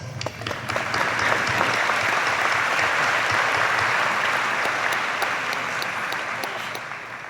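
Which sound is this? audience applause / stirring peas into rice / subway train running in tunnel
audience applause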